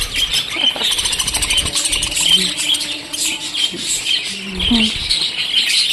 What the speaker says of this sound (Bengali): এগুলো সব বাচ্চা পাখি নতুন বাচ্চা উঠেছে